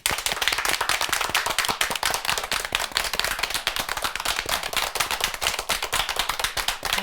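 An audience at a Korean Catholic martyrs' program claps loudly in a dense, steady burst of applause for a welcomed nun, with no talking over it.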